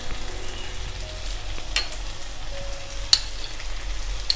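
Ground spices sizzling in hot oil in a pan for a light Bengali fish curry with vegetables, a steady close hiss and crackle with a couple of sharp clinks.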